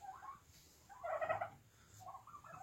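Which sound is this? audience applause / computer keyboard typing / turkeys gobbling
turkeys gobbling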